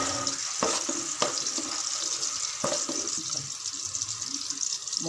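Sautéed vegetables sizzle and bubble in a pan after water is poured in while egg noodles are made, a steady close hiss with a few sharp clinks.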